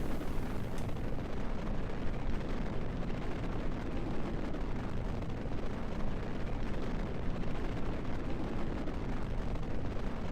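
Small rocket launching in Kerbal Space Program, a continuous loud roaring rumble of engine thrust, broadband and steady throughout without pause.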